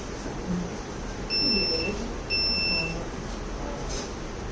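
Two steady electronic buzzer beeps from a transformer health monitoring circuit, each lasting about half a second, sound close by over a faint background hum.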